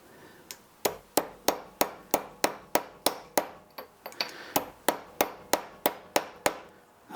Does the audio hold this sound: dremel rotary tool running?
yes